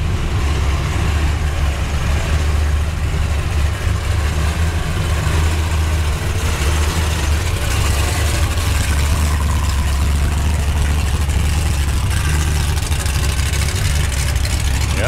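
A carbureted Chevrolet Nova engine idles loudly at an indoor roadster show, a steady deep rumble throughout with crowd noise mixed in beneath it.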